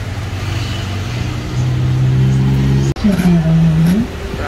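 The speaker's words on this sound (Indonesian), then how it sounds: "Bandung Tour on Bus." A Bandros tour bus engine in Bandung runs steadily at close range, its low hum rising and then shifting pitch after a brief cut, with a voice speaking over it.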